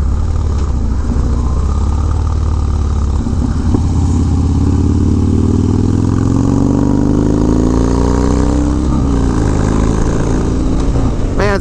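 Harley-Davidson Dyna motorcycle engine rumbling steadily while riding, a loud continuous low throb with rising and falling revs as it accelerates, wind noise mixed in, no voices.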